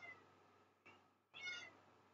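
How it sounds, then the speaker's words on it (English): A house cat meows indoors, a few drawn-out calls at moderate distance, faint and close to the room's quiet background, with no talk over them. "Oh no, here come one of the cats."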